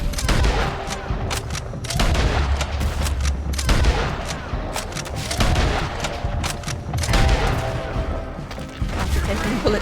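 Gunfire in the video game Red Dead Redemption 2, loud overlapping shots and booming volleys in a chaotic shootout, with game sounds and some speech mixed in.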